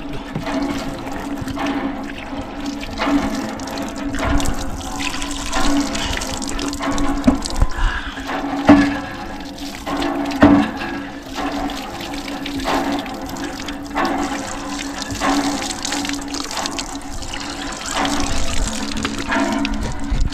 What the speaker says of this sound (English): This is fresh water here, guys. From the borehole.